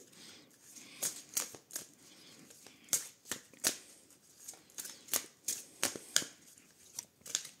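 Tarot cards are shuffled and drawn by hand, making a quiet, close series of crisp riffling flicks and slaps that come at an uneven rhythm with soft pauses between them.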